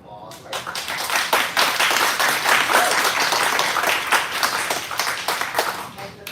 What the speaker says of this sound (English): we need to all give them a round of applause.